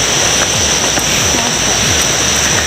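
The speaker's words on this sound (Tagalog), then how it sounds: "so ganito po ang daan daanan bato-bato at dyan po ay may sapa. Ayun po sapa." Creek flowing beside a rocky path, a constant loud rushing wash of water with no breaks, close by.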